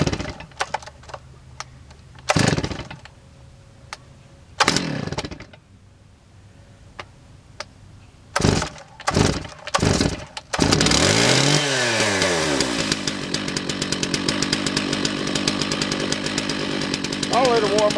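A chainsaw in a firewood yard, not yet warmed up, is pulled over with several short bursts and stops before it catches, then starts and runs at a steady, loud, close idle.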